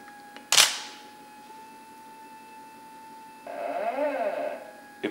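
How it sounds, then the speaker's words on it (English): A camera shutter fires once with a sharp close click, triggered by a Crayfish 360 photography control box, followed by quiet and then a whirring motor sweep as the rotating head moves. "it will pause for 1 second and then hold the shutter down for 2 seconds and then move"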